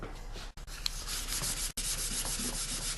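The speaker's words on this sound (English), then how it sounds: "So let's go ahead and sand this thing down." Steady rubbing of sandpaper on a painted wood surface, a continuous scratchy hiss with a couple of brief pauses as the stroke lifts off.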